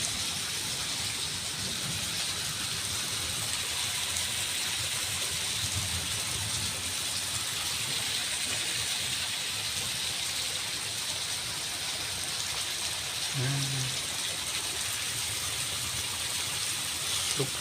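Heavy rain pours steadily as a dense, continuous hiss that stays even and fairly loud throughout, with a brief low thump near the end and no voices.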